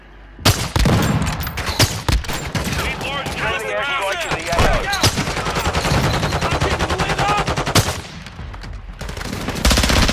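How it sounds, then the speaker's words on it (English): Rapid bursts of automatic gunfire and heavy blasts from an airstrike in a military shooter video game, loud and nearly continuous across the whole stretch, with no pauses between volleys. "I hit with an airstrike."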